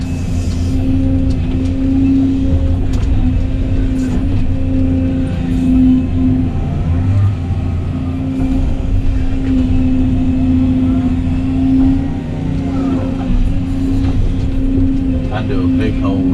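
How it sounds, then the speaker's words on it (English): A bulldozer engine runs steadily while leveling humps on land being cleared, a loud, close diesel drone with a constant low hum and slight load variations throughout. "I can take the dozer and level off all these humps"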